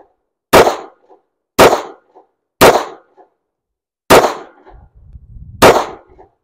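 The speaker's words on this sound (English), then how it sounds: "It's a nice shooting pistol" Smith & Wesson SD40VE .40 caliber pistol fired in five sharp, loud, close shots at roughly even one-second intervals, each crack decaying quickly, with faint low rumble between the last two.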